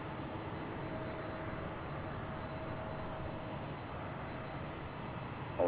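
A Boeing 767 jet at Seattle airport gives off a steady, distant engine roar, a broad even rumble and hiss that holds constant with no voices.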